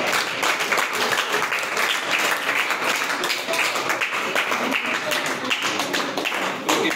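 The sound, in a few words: audience applause at prize distribution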